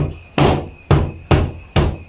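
A hammer cracks open a large crystal fruit (buah pukul) in four sharp, evenly spaced strikes, each a loud close thwack with a short ringing tail.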